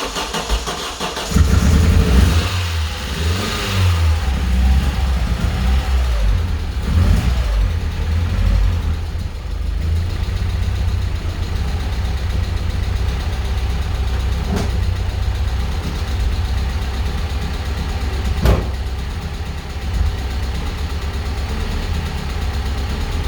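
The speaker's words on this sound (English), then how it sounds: "I'm going to try and start the car now and see what happens." A Vauxhall Astra GSi engine being brought back to life cranks and catches, then settles into a steady, loud idle with occasional revs, a continuous close engine drone running throughout.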